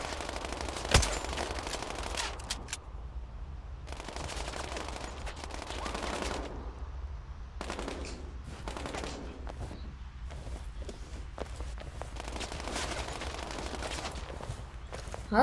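Enemy gunfire in the sniper video game Sniper Ghost Warrior Contracts crackles in repeated bursts and scattered shots over a steady game ambience, with distant automatic fire throughout.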